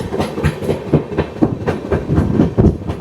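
A train runs through a hill tunnel on a scenic West Bengal line, its wheels beating out a loud, steady clickety-clack with boomy rumble close around, no voices over it.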